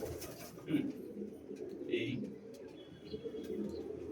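Soft pigeon cooing murmurs in low, rolling bursts, mixed with a brief spoken word and faint chirps in the background; the birds are fancy Kaldum pigeons.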